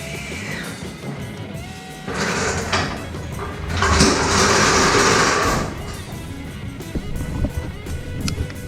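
Vehicle lift lowering a 1978 Ford F100 fitted with a Crown Victoria subframe in a garage, a rising mechanical whir and hiss that swells for several seconds and then fades, with clanks around it.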